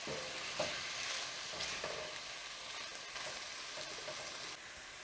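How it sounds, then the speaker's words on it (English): Cherry tomatoes, squash and zucchini sizzle steadily in a pan beside crispy chicken thighs, with a few soft scraping stirs breaking through the dense, even frying hiss. "And just give this a stir or two throughout the process while we wait on the tomatoes"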